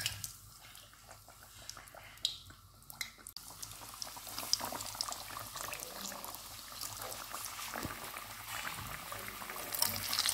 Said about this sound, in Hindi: अब हम समोसे ऐड करेंगे इसके अंदर।